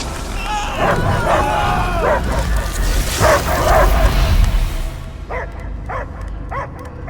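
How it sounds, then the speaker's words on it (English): A dog barks and yips in the video game Marvel's Guardians of the Galaxy, a string of close, repeated barks under game dialogue and voices, then a few clearer isolated barks after the talking stops. "I hear only barking."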